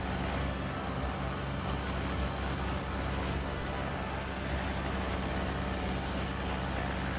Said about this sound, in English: That engine noise is awful.